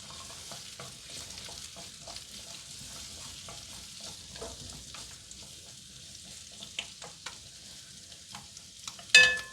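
Pumpkin caponata with parsley frying in a pan makes a steady soft sizzle, with occasional stirring scrapes and a sharper clink near the end.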